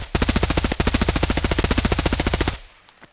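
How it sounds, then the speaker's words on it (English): Rapid fully automatic fire from an HK rifle in Escape From Tarkov, a fast even burst of about thirty close, loud shots with one brief pause, ending abruptly into quiet. "This gun shoots so fast, it melts people."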